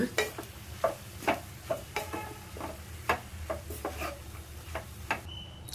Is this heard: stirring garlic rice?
yes